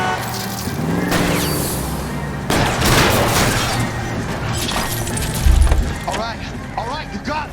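Gunshots ring out in L.A. Noire as shots are fired at a fleeing car's tires during a chase: sharp cracks and shattering bursts over engine rumble, with voices talking through the action.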